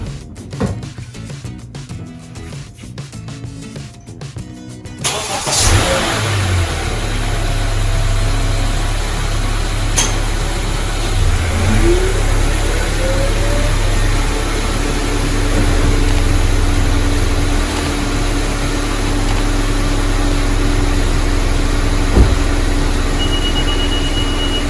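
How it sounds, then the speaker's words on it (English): A 10th generation Honda Civic's engine cranks and catches after a brief stretch of quiet, then settles into a steady, fairly loud idle that runs on alone for about twenty seconds. "I'm gonna go turn the car on."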